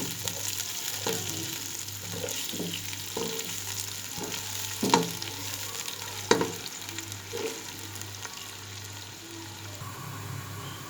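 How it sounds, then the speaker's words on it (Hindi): Onions frying in ghee in a pot for nali nehari, a steady close sizzle with a low hum beneath and occasional clinks and stirring scrapes, no voices. "फिर हम इसमें प्याज फ्राई करेंगे"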